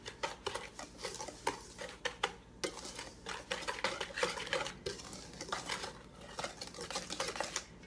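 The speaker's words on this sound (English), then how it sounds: "I'm just going to kind of mix that up a little bit." Flour and baking powder are stirred together in a bowl for Swedish cinnamon buns, giving a steady run of scraping, tapping strokes with light utensil clinks against the bowl, close and moderately quiet, with no voices.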